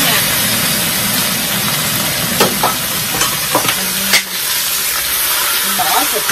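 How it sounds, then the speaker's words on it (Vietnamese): Meat stir-frying in a hot pan with fried lemongrass and garlic, a steady loud sizzle running throughout with a few scraping stirs of the utensil and a faint low hum underneath. "Bỏ thịt vô. Mình xào."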